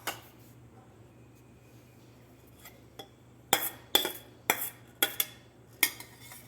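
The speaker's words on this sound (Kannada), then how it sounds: "ಇದನ್ನು ದೋಸೆ ಹಿಟ್ಟಿಗೆ ಮಿಕ್ಸ್ ಮಾಡ್ಕೊಂಡ್ಬಿಡ್ತೀನಿ" A spoon clinks against a bowl in a series of sharp taps near the end as fried onions are stirred into ragi dosa batter, after a quiet stretch with faint scraping.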